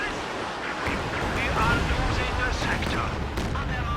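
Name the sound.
weapon team rapid gunfire in video game Company of Heroes 2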